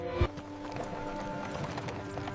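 Horse hooves clopping steadily as they pull a royal carriage along a road, a soft rhythmic patter after one brief thump, mixed with ambient storybook music.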